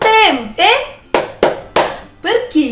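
Hand clapping in an Indonesian children's clapping game for kindergarten, with a voice chanting over sharp claps that fall in a quick rhythmic cluster near the middle.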